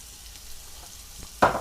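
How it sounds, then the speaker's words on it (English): Mushrooms added to garlic in hot olive oil for a farfalle and sausage dish, a low faint sizzle that bursts into a louder hiss near the end. "looks like we can go and add our mushrooms to our garlic"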